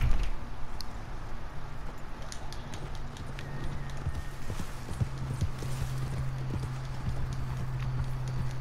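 Horse hooves clip-clop at a steady walking rhythm in Red Dead Redemption 2, with a low rumbling tone under the footfalls and occasional light creaks, with no talk over them.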